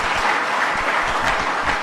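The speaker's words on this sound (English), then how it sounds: "Let's celebrate him with a big round of applause." A large audience at a public forum on nation building and crisis response applauds steadily, dense continuous clapping filling the whole stretch at moderate loudness with no talk over it.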